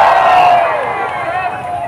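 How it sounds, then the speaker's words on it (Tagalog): A large crowd of supporters at an outdoor political rally in Manila shouts and cheers loudly, with voices rising together in a sustained roar that fades slightly over two seconds. "dapat kapag nagpakilala kami, palakpakan at sigawan din"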